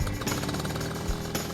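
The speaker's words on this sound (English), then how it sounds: "And the Vespa's just a buzzy little thing." A Vespa scooter engine gives a loud, steady, buzzy drone that runs unbroken for the whole moment, with no voices.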